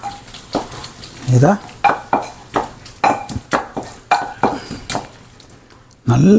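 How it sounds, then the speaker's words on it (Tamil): Ginger sautéing in a pan for black chicken gravy is stirred with repeated scraping strokes, about a dozen sharp rhythmic clatters over a soft sizzle, close and fairly loud, with a brief voice near the end. "இதை வதக்கணும். இந்த பச்சை போகிற வரைக்கும் இதை நல்லா வதக்கி கிண்டி விட்டுட்டோம்"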